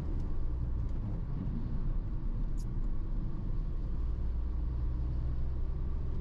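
A 2022 Volkswagen Transporter TDI van accelerates on a highway, giving a steady, loud, close low engine rumble and road roar from inside the cab, with no speech.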